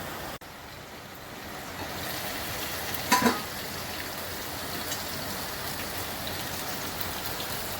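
Grated ginger, turmeric and salt frying in a pan, a continuous soft crackling hiss at an even, moderate level with one brief sharper clatter partway through.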